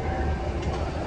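A Fortaleza metro train arrives at a station, giving a steady, loud low rumble with rail noise throughout and no one speaking.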